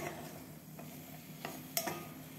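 Sliced carrots with pepper being stirred in a pan, a quiet close scraping with a few light clicks of utensil against metal and a faint sizzle underneath, no talk.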